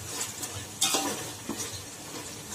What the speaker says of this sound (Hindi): गोश्त में डाल दी मैं, अच्छे से भून लेना, इसको हाई फ्लेम में 5 मिनट अच्छे से भून लेना।